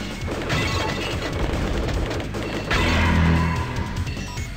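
Dense, rapid bursts of video game gunfire mixed with crashing impacts, loud and continuous with a heavier boom midway.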